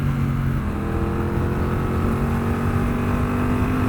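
A 2021 Triumph Bonneville Bobber 1200 motorcycle pulls hard through the gears, its steady loud engine drone rising in pitch while heavy wind rush masks much of it; no talking.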